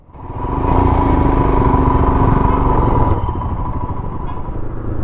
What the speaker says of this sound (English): this is my new ride, Himalayan 400, and I'm loving it